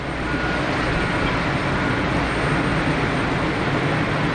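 A Swiss airliner holds at Geneva Airport awaiting takeoff clearance, its engines producing a loud, constant roar that stays even and unbroken throughout.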